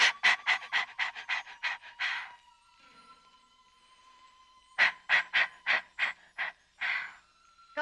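A person doing a breathing exercise, quick rhythmic panting in two bursts of about ten sharp breaths each, separated by a quiet pause, close and loud with no talk.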